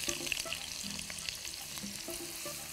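Onion hits hot vegetable oil in a pan, a close, steady sizzle and frying crackle with a few soft stirring knocks, continuous throughout.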